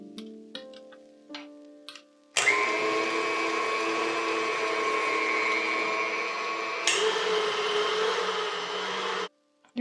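An electric mixer whirs steadily through cupcake batter of vanilla extract and olive or vegetable oil for red velvet chocolate chip cupcakes, starting after a few light clicks, loud and close with a brief shift in pitch before it stops.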